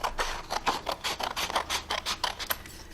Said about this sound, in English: what I'm going to do is cut out these sentences for you